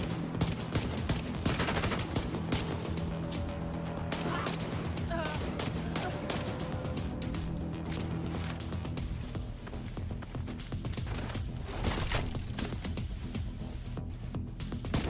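Rapid gunfire from a Liberty pistol build in the video game The Division 2, dense and continuous through a noisy battle mix with sharp cracks, music and game voices layered over it.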